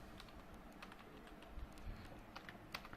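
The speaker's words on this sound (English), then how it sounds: "here I have to type case" Quiet, steady tapping on a computer keyboard, close by, with irregular clicks and a few firmer keystrokes and no voices.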